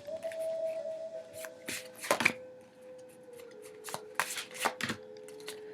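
Tarot cards shuffle by hand for a weekly reading, in quick riffling bursts and soft slaps that repeat in short clusters over a faint steady tone, close and fairly quiet, with no speech.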